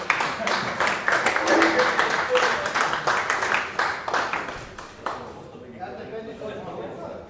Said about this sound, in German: könnt ihr gerne einen kleinen Applaus loswerden